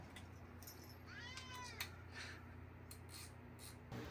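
A single cat meows once in a boat's engine room, a rising, wavering cry at moderate distance over a low steady hum.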